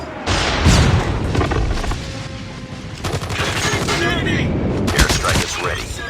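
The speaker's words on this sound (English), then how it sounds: "Friendly napalm deployed." Napalm airstrike in the COD Mobile shooter, a dense fusillade of booming blasts and crackling gunfire rolling on for several seconds, loud and close, with game voice lines over it.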